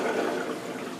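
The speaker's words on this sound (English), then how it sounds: "time to drain that excess water out of the algae filter. It'll flow down to the sump below" Water drains steadily from an aquarium algae filter down into the sump below, a continuous close rushing and gurgling flow with no pauses.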